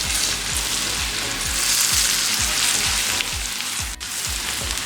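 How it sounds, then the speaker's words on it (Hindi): Cumin and garam masala powder fry in oil on a tawa for mutton chops, a loud steady sizzle up close with a regular rhythmic scraping of a spatula every half second, no voices. "1 मिनट के लिए इसको भी फ्राई कर लेंगे।"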